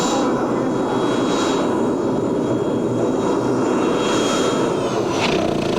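A turbine-powered pulling tractor at a 1995 European tractor pulling event at Walibi Flevo, Holland, gives off a loud, continuous jet-like roar and whine, steady and close throughout.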